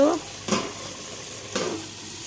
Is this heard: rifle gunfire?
no